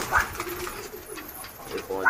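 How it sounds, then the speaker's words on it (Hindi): Gola pigeons released to fly, cooing and fluttering nearby, with soft wing flaps and a voice murmuring underneath. "तो भाई सारे कबूतर खुल गए अपने"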